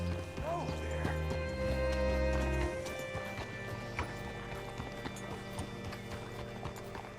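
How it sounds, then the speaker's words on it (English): Horse hooves clip-clopping in Red Dead Redemption 2 as the rider pulls up to a hitching post, a steady near rhythm of hoof falls mixed with game music and occasional faint voices. "Hitch your horse up here."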